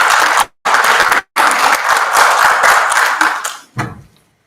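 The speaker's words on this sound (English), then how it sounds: "Let's give Ms. Parks another warm hand of applause" A hall audience at a community dialogue event applauds loudly with dense, steady clapping, broken by two brief pauses before it fades out near the end.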